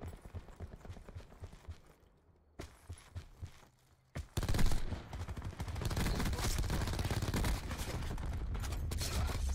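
Fast bursts of automatic gunfire in a PC first-person shooter, quiet and sparse at first. After a brief lull, a loud, dense barrage of rapid shots runs steadily to the end.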